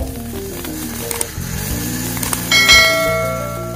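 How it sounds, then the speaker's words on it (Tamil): A kitchen mixer grinder whirs as roasted spices are ground into coarse idli sambar powder, its motor whine rattling with tumbling grains and rising in pitch partway through. "மிக்சியில போட்டு பொடி பண்ணிப்போம்"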